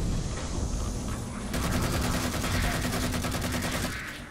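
Gunfire in Halo 4 aboard a ship, heavy rumbling combat noise giving way to a loud, steady automatic burst with rapid evenly spaced shots lasting several seconds before trailing off.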